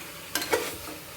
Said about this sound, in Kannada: ಆಗಾಗ ಸ್ವಲ್ಪ ಈ ರೀತಿ ತಿರುಗಿಸಿ, ಏಕೆಂದರೆ ಅದು ತಳ ಹಿಡಿದ್ಬಿಡುತ್ತೆ